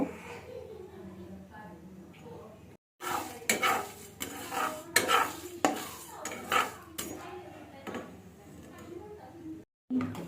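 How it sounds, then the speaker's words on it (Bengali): Whole cardamom and other spices heated in a pan, with repeated metal scraping and clinking of a utensil stirring them, steady and close, brief pauses between bursts, under a faint low hum. "এগুলোকে আমি গরম করে নেব"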